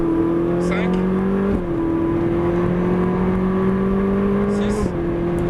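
A Ferrari 458 Italia on the Nogaro circuit holds a loud, steady engine drone heard from inside the car, rising gradually in pitch with two brief dips at gear shifts, while an instructor talks over it.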